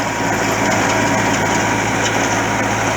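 An Al-Ghazi tractor engine drones steadily at close range while driving, a loud continuous mechanical hum with a low rumbling tone throughout.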